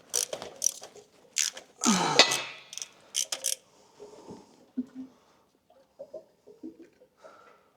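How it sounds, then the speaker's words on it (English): A hand ratchet clicks in short bursts while the engine is pulled from a Fiat Panda 100HP, close and sharp, separated by quiet gaps, with a few softer clunks and shuffles of tool handling. "Did I have a ratchet? Yes,"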